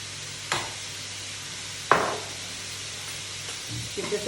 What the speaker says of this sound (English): I'm just going to throw my boiled noodles in. A good dash of the fish sauce.